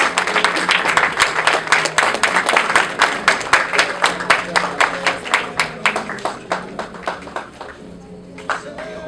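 Audience applause at a 2017 awards ceremony and dinner welcoming Cassandra George of the Shagaramas: steady, dense clapping from a sizeable crowd, fairly close, tapering into sparse claps near the end.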